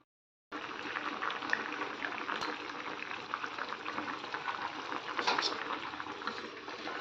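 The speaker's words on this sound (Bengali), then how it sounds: "ঝোল পুরো সব দিয়ে দিয়েছি, এবার জাস্ট ফুটবে।" Fish curry broth boils in a pot at a steady, close bubbling after a brief silent start, with no talking.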